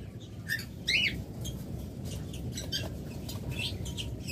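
Albino split ino pet birds give high, thin chirps and tweets, a few short calls scattered over a steady low rumble of background noise, moderately close but fairly faint.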